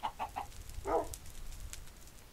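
Chickens clucking in the video game Minecraft, a few short clucks in quick succession followed by a louder squawk, then quieter background farm noise with no talk.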